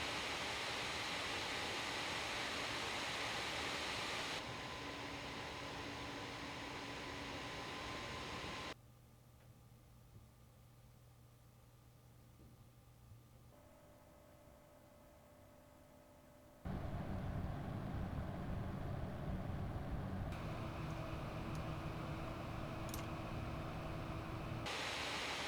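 An ASUS G20CI mini-chassis gaming PC under load gives off a steady, broadband fan whoosh and hum that steps between louder and quieter levels over a long stretch, with no talking.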